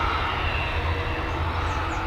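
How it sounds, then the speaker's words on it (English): An Embraer Legacy 500 business jet taxis at Dublin Airport, its engines giving a steady, fairly distant low rumble and whine that holds evenly throughout with no talking. "Also moving is an Embraer Legacy 500 flexi operations."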